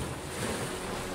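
Ocean waves wash around a small commando boat tossed in the middle of the Atlantic in a dramatized scene: a continuous broad rushing surge with wind noise, steady and enveloping, with no voices.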